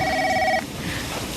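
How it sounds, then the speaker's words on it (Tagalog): A telephone rings once with a short bright electronic trill that cuts off abruptly after half a second, leaving a steady room hum with no talk. "Oh, Cora, sagutin mo nga yung telepono."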